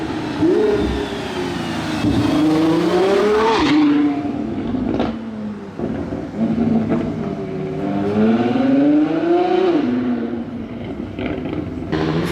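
Mansory supercar engine revving loudly nearby at a Monaco car show, repeated rising and falling pulls with throttle blips, a continuous roar with no talking.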